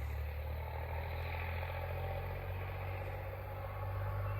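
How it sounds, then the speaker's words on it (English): A loud tractor engine rumbles steadily in the distance where a field meets a forest at sunset, a constant low drone with faint clatter and no pauses. "It's a very loud tractor"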